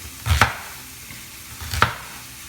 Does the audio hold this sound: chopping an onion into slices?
yes